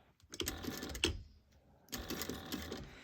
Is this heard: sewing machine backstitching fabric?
yes